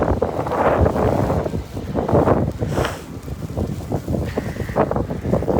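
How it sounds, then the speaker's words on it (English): Gusty wind in a New York City snow storm roars and buffets the microphone in a steady, loud rush with uneven surges. "Yeah, it's the wind."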